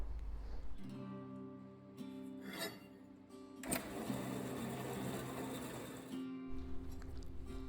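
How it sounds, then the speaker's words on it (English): A power saw cuts steel stock for a Toyota truck brush guard, a steady mechanical hum with a rhythmic whine and grinding rasp that holds for several seconds at moderate distance, then eases back to a low idle drone. "after I turn the saw on, I find something else to do for a little while it's cutting"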